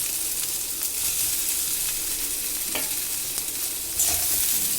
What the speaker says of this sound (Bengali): বেগুনের টুকরোগুলো দিয়ে সবজিটাকে আমি ভালো করে নাড়াচাড়া করে ভেজে নিলাম